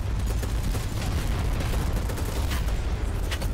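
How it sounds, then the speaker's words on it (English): Dense, continuous gunfire crackles in the BattleBit Remastered video game, a steady wash of distant shots and bursts with no talking over it. "I see some gunfire over there"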